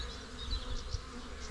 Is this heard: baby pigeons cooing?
no